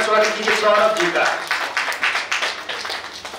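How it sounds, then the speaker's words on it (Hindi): An audience at a live Hindi poetry recital in 2018 breaks into clapping to welcome the poet, IAS officer Saurabh Tiwari, with a host's voice heard first and the applause then building into steady, close crowd clapping. "जोरदार ताली उसका स्वागत कीजिए सौरभ जी का।"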